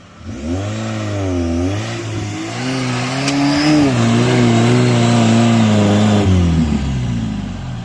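A Lada Niva's engine revs hard and steadily under load during a run-up, its pitch rising and wavering then holding high and close for several seconds before easing off.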